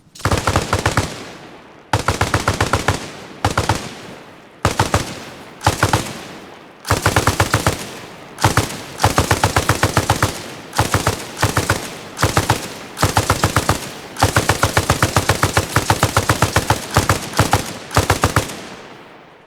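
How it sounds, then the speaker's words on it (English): Squad suppressive fire in the military shooter game Arma Reforger: loud, close bursts of rapid automatic gunfire in rhythmic volleys separated by short pauses, with several long sustained strings of shots. "Squad, suppressive fire."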